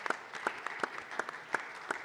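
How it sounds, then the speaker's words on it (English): A conference audience claps after a talk at a dental corporate forum, giving a short burst of applause that sounds moderately sparse, with distinct, rhythmic claps heard from close by. "One more round of applause for the excellent speakers for today."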